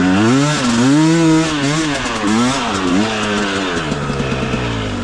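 A KOVI 300 Pro 2T two-stroke enduro motorcycle ridden in first gear, its engine buzzing loudly and close, rising and falling in pitch as the throttle opens and eases repeatedly.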